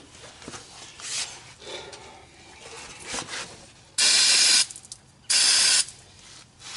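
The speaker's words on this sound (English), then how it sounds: "I'm going to put some brake cleaner on it" Two loud hissing bursts of brake cleaner aerosol sprayed onto a dirty front brake pad during a brake pad and rotor job on a 2008 Honda CR-V, each lasting about half a second, following quieter clicks and handling noises.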